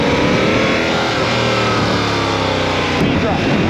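A motorcycle engine revs and shifts in pitch as the rider leans through a turn, with a steady roar throughout and a voice talking over it.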